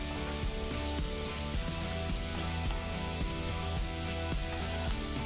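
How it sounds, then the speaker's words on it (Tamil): Chopped onions, garlic, ginger and slit green chilies sauté in a pan with a continuous soft sizzle and crackle, partly masked by a louder tonal backing. "பொடிசா நறுக்கின 2 வெங்காயம், 10 பல்லு பூண்டு, பொடிசா நறுக்கின 1 துண்டு இஞ்சி, கீறி வச்ச 3 பச்சை மிளகாய் சேர்த்து நல்லா வதக்கிக்கலாம்"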